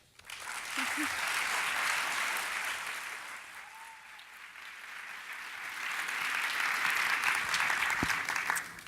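Audience applause fills the hall at a large journalism conference as speakers walk onto the stage, steady broad clapping that dips slightly midway and swells again before ending.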